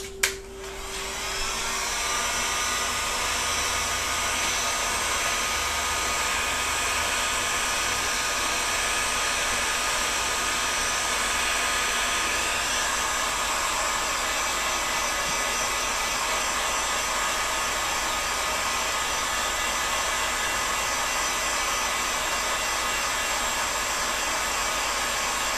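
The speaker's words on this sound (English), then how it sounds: "let's go ahead and heat it and slide it onto the pipe" A hot air gun blows steadily to heat a sword part before sliding it onto a pipe, with a loud, close, continuous whine and rush of air that clicks on at the start and runs unbroken with no talk.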